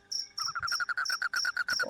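Cricket chirping in rapid, steady pulses, each a bright trill repeating throughout, close and fairly loud with no talking.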